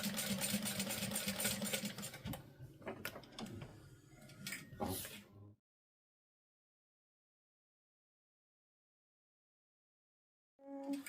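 A sewing machine top-stitches a bag at an eighth of an inch, running in a busy mechanical whir for several seconds, then stopping in silence before starting again briefly.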